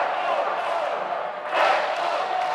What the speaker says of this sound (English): Crowd trying to urge the home team on.